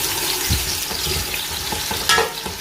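Sliced onions frying in hot oil for chicken pulao, a loud continuous close sizzle with occasional stirring scrapes and no voices.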